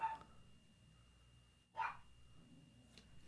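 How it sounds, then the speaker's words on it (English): A dog somewhere in a house gives a couple of short, faint barks, heard from a distance through a quiet room and separated by a long gap. "Is that Poncho barking?"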